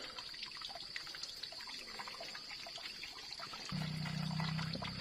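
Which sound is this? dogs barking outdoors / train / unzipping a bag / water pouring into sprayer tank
water pouring into sprayer tank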